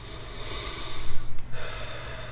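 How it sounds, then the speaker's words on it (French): Deep, slow breaths drawn in and pushed out during a mudra exercise, a series of soft pulsing whooshes that swell near the middle, up close and with no talking. "Prenez toujours des grandes respirations quand vous faites vos mudras, c'est important."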